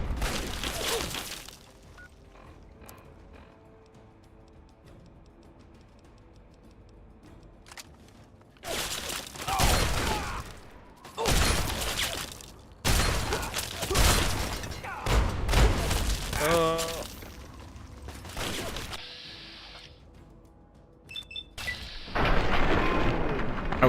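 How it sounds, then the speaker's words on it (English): Grenade explosions in Fallout 3 near a raider stronghold with a minefield, several loud, sharp bursts spread across an otherwise quiet stretch with faint ambient tones. "That's a grenade."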